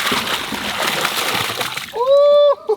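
Baitfish shiners are poured from a cooler into a pond, giving a loud sloshing splash of water, then a sharp whistling cheer rises as the pour ends.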